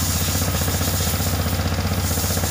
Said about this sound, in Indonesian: Misal kita ini misal kita hidupkan motornya ya.